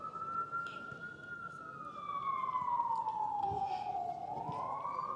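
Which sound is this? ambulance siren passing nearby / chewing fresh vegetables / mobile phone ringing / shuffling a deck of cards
ambulance siren passing nearby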